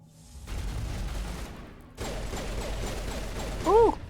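Gunfire in the video game Mass Effect 1 rattles in dense bursts over mechanical clatter, then a brief whooping electronic sound near the end.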